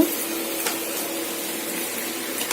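Water pours steadily into a pan of potato masala gravy, giving a continuous soft hiss and splash at close range with no talking.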